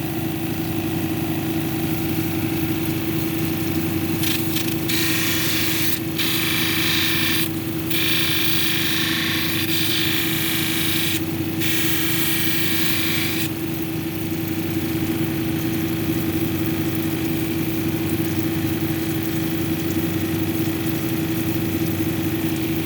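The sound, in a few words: lapidary grinding wheel, 280 grit, grinding quartz cabochon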